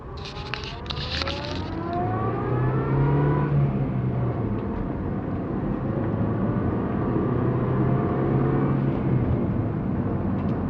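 A car drives along a bicycle road race course near a lake, its engine humming steadily with rising and falling revs, and road and wind noise throughout.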